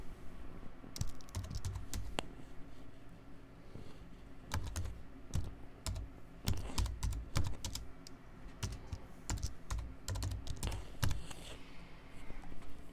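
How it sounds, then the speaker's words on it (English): Typing on a computer keyboard, bursts of quick close key clicks with short pauses between runs, alone without talk. "now at the top you type in what you want"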